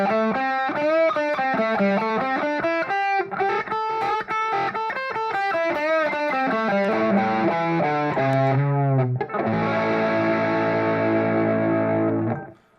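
An electric guitar plays through a high-gain amp model with heavy distortion. Loud, sustained notes and chords ring out in a steady melodic run and end on a held chord.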